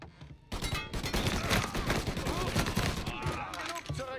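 Heavy gunfire in Mafia Definitive Edition erupts after a brief quiet moment and carries on as dense, overlapping automatic bursts with loud, close shots, with voices shouting in German in between.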